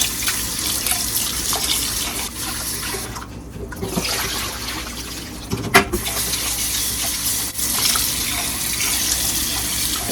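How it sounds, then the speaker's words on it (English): Basmati rice being washed under a running kitchen tap, a steady loud stream of water splashing into a pot or sink throughout, with brief dips and a few knocks as the rice is stirred. "It's the same when you're washing the white rice"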